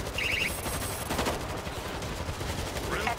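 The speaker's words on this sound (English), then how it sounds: "Auto turret ready for action." Automatic fire from an auto turret in the World War Z video game: loud, rapid, continuous bursts of gunfire that run without a break, layered over dense game noise.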